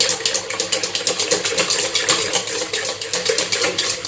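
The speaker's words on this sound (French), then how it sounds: "Donc on va bien mélanger tout ça." Cake batter for an apple and almond cake being stirred briskly with vanilla sugar, a fast steady wet swishing and tapping rhythm close by.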